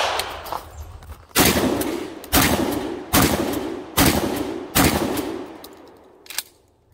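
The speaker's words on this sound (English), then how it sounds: "This was the most prolific shotgun of Vietnam, and we're gonna shoot it." Stevens 77E Vietnam-era pump-action combat shotgun fired five times in a steady rhythm, loud close booms about a second apart with reverberant tails, followed by a fainter final report.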